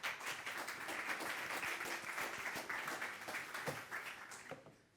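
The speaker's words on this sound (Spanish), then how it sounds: "así que un fuerte aplauso y comenzamos ya con la charla" An audience at a conference talk on evading detection in industrial networks claps warmly and steadily, a dense wash of many hands that fades out near the end.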